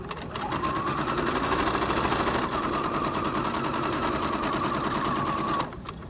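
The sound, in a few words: sewing machine stitching a quilt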